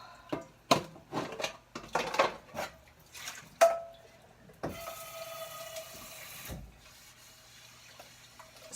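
A pan is scrubbed in a kitchen sink with Cascade dish detergent: dishes clatter in short irregular knocks, then a running faucet sprays water steadily before cutting off, close and fairly quiet.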